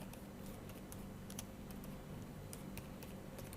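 Steady, fast keystrokes on a computer keyboard as a git config command is entered in a bash shell, crisp clicks in an irregular patter over a faint room hum.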